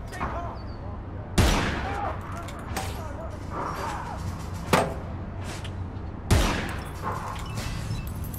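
Sniper rifle shots in the online shooter APB Reloaded, three sharp loud cracks spaced a few seconds apart over a steady game background, with people talking throughout.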